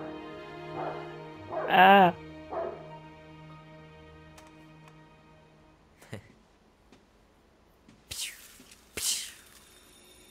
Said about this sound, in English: Why does the dog keep barking?